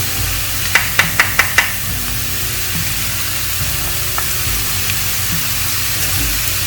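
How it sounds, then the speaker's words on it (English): Garlic hits a hot pan for a creamy jalapeno spinach artichoke dip with a few sharp clacks, then a steady hiss and sizzle continues close by with light stirring and no talking. "I'm going to go ahead and throw some garlic in here."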